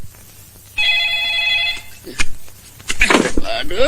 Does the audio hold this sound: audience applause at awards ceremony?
no